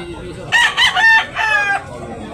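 A rooster crows loudly nearby on a gamefowl farm in Talisay, Cebu, a drawn-out cock-a-doodle-doo followed by a second crow, with faint clucking in the background.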